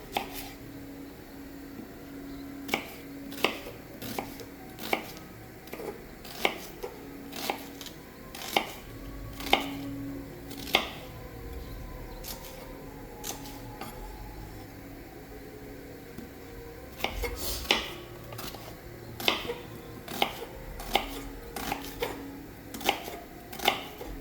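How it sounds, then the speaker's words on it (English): Onions are chopped on a board with a knife while meat cooks nearby. Sharp, fairly close chops come one after another in an uneven rhythm, some in quick bursts, over a low kitchen hum with no talking. "And cut the onions real quick."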